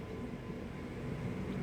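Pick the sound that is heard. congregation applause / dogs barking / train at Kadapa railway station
train at Kadapa railway station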